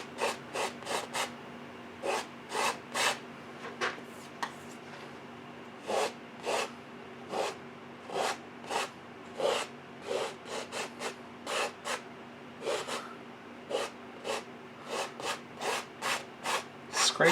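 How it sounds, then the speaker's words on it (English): A painting knife scrapes excess paint from a landscape canvas in a rhythmic series of short, dry rasping strokes, about two per second, close and clear with no talking. "Scrape off all that excess."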